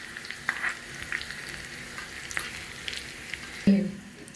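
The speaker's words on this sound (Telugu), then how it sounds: "పోపులా కరివేపాకు వేసిందండి. ఇలా కలుపుకోవాలి మంచిగా" Curry leaves and crushed garlic sputter in hot tempering oil in a pan, a soft steady crackle broken by a few sharp pops and a scraping stir near the end.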